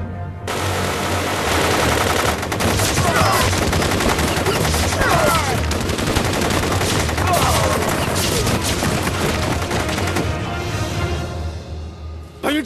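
Sustained gunfire in an anti-Japanese war kung fu film scene: dense machine-gun bursts and rapid shots rattle loudly and continuously for about ten seconds before cutting off.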